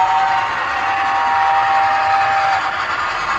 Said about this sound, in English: Celebratory whistle?